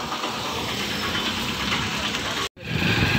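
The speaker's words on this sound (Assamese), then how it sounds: "আৰু মই বাইক চলাই আছোঁ" Motorbike engine running steadily while being ridden, a continuous broadband roar with wind rush, loud and close, briefly cutting out for a split second before resuming.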